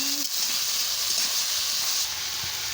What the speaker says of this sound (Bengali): দিয়ে ভালো করে আনাজটাকে কষিয়ে নিচ্ছি